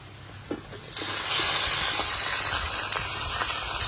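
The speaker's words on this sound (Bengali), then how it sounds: "পেঁয়াজটা আমি ভালো করে লাল লাল করে ভেজে নিয়েছি এবার এর ভেতর মাংসটা দিয়ে দেব" Chicken dropped into deep-red fried onions in hot oil, a sudden loud hiss rising after a brief knock, then a continuous strong sizzle with a few soft stirring taps.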